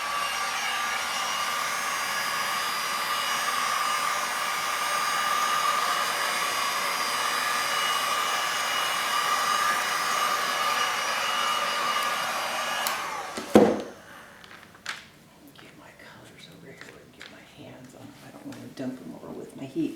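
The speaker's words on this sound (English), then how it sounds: "Dump them over with my heat gun." A heat gun blows hot air over resin art in steady, close whooshing for about thirteen seconds, then cuts off with a clunk, leaving quiet room sounds and light handling noises.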